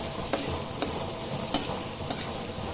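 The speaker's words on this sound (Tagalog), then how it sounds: "ilagay na rin natin yung atin sibuyas isabay na rin natin mga idol itong ating bawang ayan atin lang to mga idol halu-haluin" Onion and garlic stir-frying in a hot pan for a simple home-cooked dish, with a steady close sizzle broken by a few scraping spatula stirs at irregular intervals.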